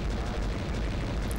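Mines explode in the Vietnam War video game Conflict: Vietnam as a loud, continuous, deep roaring blast that fills the whole moment with rumbling debris noise and no voices.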